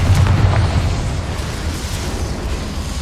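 A Confringo spell explosion in the Hogwarts Legacy video game bursts with a loud, deep boom followed by a sustained rumbling roar that slowly fades.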